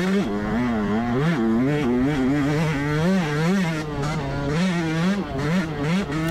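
A 2024 Yamaha YZ125X dirt bike revs hard and close, its high two-stroke whine rising and falling through repeated throttle bursts and gear changes, loud and continuous with no talk.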